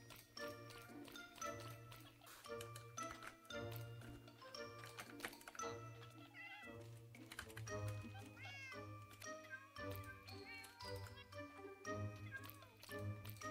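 Several cats in the video game Minecraft meow repeatedly in short, overlapping calls over a steady low hum, with scattered clicky game sounds in between.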